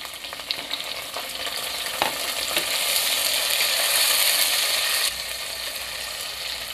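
Tomatoes going into onions already sautéed in a pan for dal khichdi, bringing a steady loud sizzle with a few scraping stirs, close up and with no voices.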